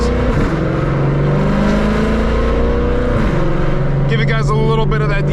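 A Shelby GT500 with a Corsa exhaust and DCT gearbox revs loudly up close while cruising, its deep engine drone rising and falling, with talk partly over it.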